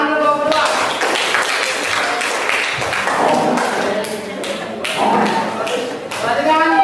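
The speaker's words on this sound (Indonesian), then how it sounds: "Oke, ikut tepuk tangan dulu kelompok 2." A class applauds a second student group in a school lesson. Several seconds of thick, continuous clapping with some thumps, with a teacher's voice heard at the start and end.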